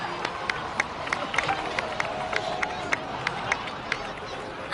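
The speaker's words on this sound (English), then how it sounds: "so please give another round of applause for them" A crowd in the video game Genshin Impact claps and cheers. The applause is a steady, moderately distant patter with sharp individual claps standing out.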